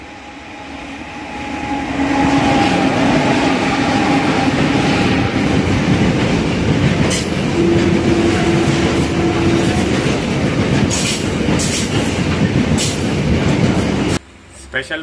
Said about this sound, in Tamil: கூட்ஸ் ட்ரெயின் கிராஸ் பண்ணி போகிறதுக்காக நம்ம இவ்வளோ நேரம் வெயிட் பண்ணிட்டு இருந்திருக்கோம்